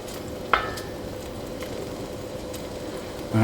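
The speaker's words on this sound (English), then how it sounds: "we're going to allow that pancetta to begin to sizzle" Pancetta fries in olive oil in a pan, giving a steady close hiss and crackle with a brief clink near the start and a thump at the end, and no voices.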